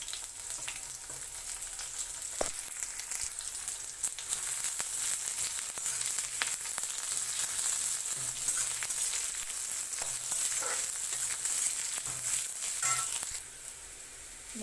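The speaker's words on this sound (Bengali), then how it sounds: "এবার ওর কড়ার মধ্যে আমি একটু কালো জিরা দিয়ে দিচ্ছি, রসুন আর পেঁয়াজটা দিয়ে দিচ্ছি।" Onion, garlic and nigella seeds fry in hot oil in a wok with a constant, moderate crackling sizzle and a few sharp pops and spoon clicks, with no talking.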